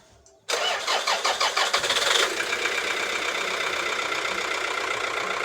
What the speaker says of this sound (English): Let me try to learn her, which simply means to start her, so that we hear the sound.